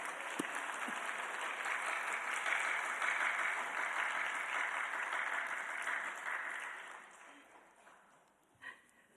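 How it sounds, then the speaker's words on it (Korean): Congregation applauding to welcome a guest speaker at a Sunday afternoon church worship service, a broad wash of clapping that swells, holds, then fades away, ending in near quiet with a faint knock. "박수하겠습니다."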